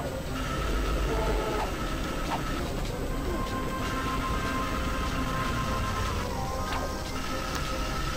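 Train passing in the Ratchet and Clank video game, a steady dense rumble running throughout with scattered metallic ticking and clanks over the top, fairly loud and continuous.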